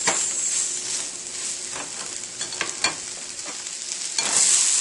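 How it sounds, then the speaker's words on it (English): Onions caramelize in a pan with a steady, soft sizzle, broken by scattered stirring scrapes and a brief louder crackle near the end. "they're getting browner and browner. Starting to really smell like caramelized onions"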